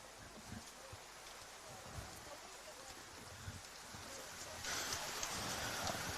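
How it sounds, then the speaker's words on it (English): Steady rain falls outdoors at a lawn bowls venue during an Australian Open event, a soft constant patter that grows slightly heavier toward the end, with no speech. "Has not stopped raining all week."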